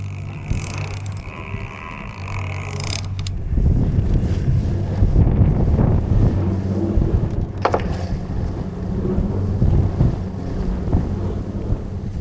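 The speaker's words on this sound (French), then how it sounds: "Maintenant, je dois réussir à manœuvrer le bateau dans ces foutues vagues." A small fishing boat's motor growls and surges as it maneuvers through waves, buried under heavy gusting wind noise on the microphone and washing water, with a few sharp knocks partway through.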